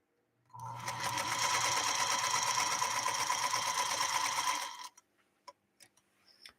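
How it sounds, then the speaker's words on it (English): A 1952 Singer sewing machine runs steadily for about four seconds with a soft, fast, whisper-quiet mechanical whir, then stops, leaving a few faint clicks. "it sews very, very whisper quiet"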